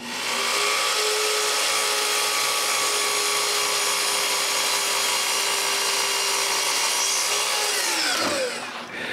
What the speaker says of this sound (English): Then I stick them on the saw, and then I cut them in half